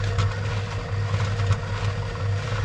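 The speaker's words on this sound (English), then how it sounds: "that noise is my little polishing wheel" A small bench polishing wheel spins with a steady, close motor hum and a constant low drone plus a faint whirring hiss, heard alone without any voices.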